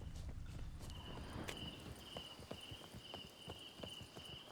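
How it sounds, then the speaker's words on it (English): Horse hooves clip-clopping in The Witcher 3 video game, a faint, irregular series of hoofbeats over an insect-like background hum, with no talking. "Horses."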